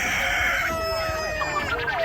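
A rooster crows loudly nearby at a rural Chinese morning market, one long drawn-out call over a busy background with faint human voices.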